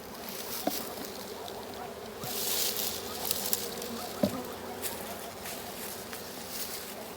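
Honey bees hum in an opened hive, a low, steady buzz with a few faint taps and knocks from the hive parts.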